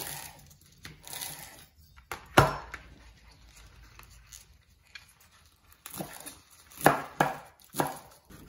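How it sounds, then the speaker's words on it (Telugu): Knife chopping taro leaves on a board, scattered bursts of firm chops separated by quiet pauses, close and fairly faint. "కూడా మంచిగా కట్ చేసుకోవాలి."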